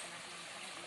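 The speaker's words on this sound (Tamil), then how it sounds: "தண்ணி நீரோட சிற்றோடைகள்லாம் ஓடிட்டுருக்கு." Water rushing and gushing through small mountain streams on a forested trekking trail, a steady broadband wash that runs continuously and fairly close throughout.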